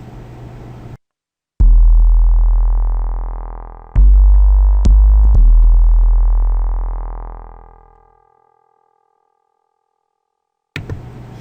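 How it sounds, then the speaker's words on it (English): A deep synthesized sub kick from the Output Substance bass plugin booms in several long, sustained low hits that swell and slowly fade out, with no talking over them. "what I got actually going right now is a simple sub kick"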